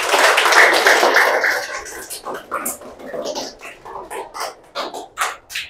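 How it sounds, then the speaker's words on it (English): Students applaud at the close of an English class, a dense burst of clapping that thins into scattered individual claps, with voices talking over it. "Clap for today's class."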